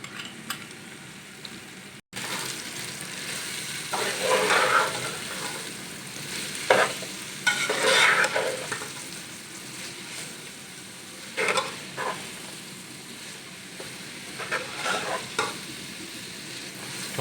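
Grated carrots and boiled peas cook in a pan with a steady sizzle, broken by several scraping stirs and clattering spoon strokes, close and moderately loud with no talking.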